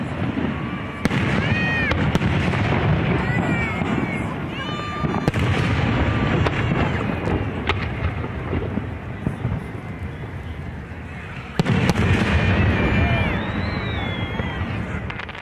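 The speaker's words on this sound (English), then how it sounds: "As the sun went down, the first firework was launched just after 10 p.m." Fireworks show launched over a lake at a town jubilee, with repeated booms, crackles and whistling launches rolling continuously, loud and echoing, with crowd voices mixed in.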